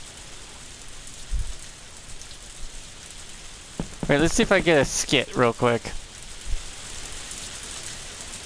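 Steady rain hisses continuously in the Harvest Moon video game, a constant wash of patter that carries on beneath a man's brief spoken remark.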